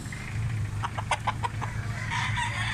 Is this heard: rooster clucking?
yes